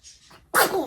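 A single sharp, close sneeze bursts out after a brief soft inhale.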